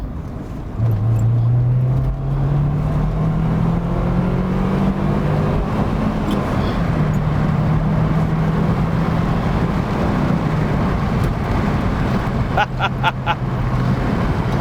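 A Rover 25 car accelerating hard in second gear on an open road, engine note climbing steadily under heavy cabin and wind roar, with someone speaking briefly over it.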